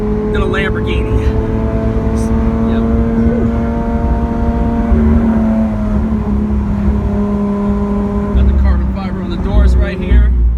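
Lamborghini Aventador SV, a 2016 V12 exotic, heard from on board while driving: a steady loud engine drone with held harmonic tones that dip and rise slightly over ten seconds, with some talk mixed in.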